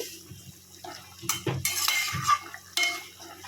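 Fish pieces dropped into a pan of cauliflower and potato curry, with a few clattering utensil and pan knocks and soft splashes, close and fairly quiet, no talking.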